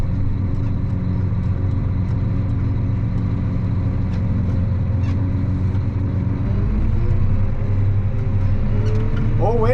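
Loud, steady rumble of a farm vehicle engine running in a peanut field during harvest, with the revs rising near the end, close and continuous, no talk.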